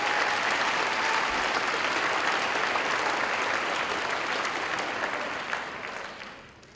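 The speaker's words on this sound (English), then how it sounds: "would we have a round of applause for the staff members" An audience at a 2019 virtual academy graduation ceremony gives the staff a round of applause, a full, sustained wash of clapping that holds steady for several seconds before tapering off at the end.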